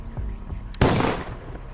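A single gunshot sounds during a hunt for a horse in Mongolia: one loud, sharp crack with a short rumbling tail over a low background hum.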